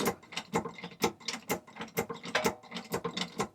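A vehicle jack lifting a Freightliner Sprinter RS Adventurous for a wheel change, giving a run of close, steady mechanical clicks and ratcheting pulses at a fairly even pace, with no talk over it.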